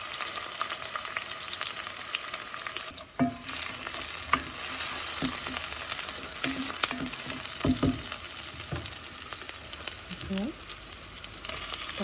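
Garlic sautéing in a pan gives a steady close sizzle and frying hiss, broken by occasional spoon scrapes and stirring knocks.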